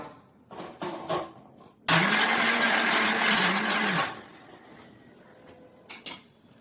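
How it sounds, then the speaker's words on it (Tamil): Mixer grinder blending mango and ice cream into a chilled milkshake, a loud steady whir for about two seconds that starts and stops abruptly, with quieter kitchen clatter before and after. "இப்ப நம்ம மிக்சியில நம்ம கிரைண்ட் பண்ணி எடுத்துடலாம்"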